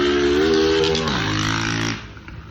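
A vehicle engine runs steadily and close by, holding a humming pitch that drops partway through and then fades into quieter background noise.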